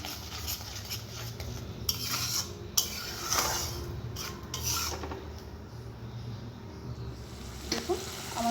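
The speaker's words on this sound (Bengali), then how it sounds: "এখন দিয়ে ভালো করে কষাতে দেবো।" Spice paste is stir-fried in oil in a pan. A soft, steady rasping sizzle runs throughout, with scattered scraping strokes of a spoon against the pan.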